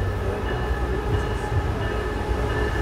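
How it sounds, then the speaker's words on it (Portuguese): A Brightline train arrives at the new Fort Lauderdale station, a steady low rumble of rolling railcars with a faint tonal hum, moderately close and continuous. "o trem está chegando aqui"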